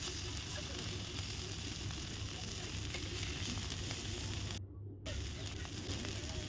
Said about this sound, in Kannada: ಈಗ ಇನ್ನೊಂದು ಸೈಡೂ ಇದೇ ರೀತಿ ಚೆನ್ನಾಗಿ ಫ್ರೈ ಮಾಡ್ಕೋಬೇಕು.